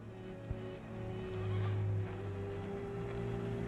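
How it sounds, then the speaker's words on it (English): A horse approaches and neighs once, a clear whinny rising over a soft background hum and a brief knock, heard at moderate distance with no talking. "There's a horse coming up."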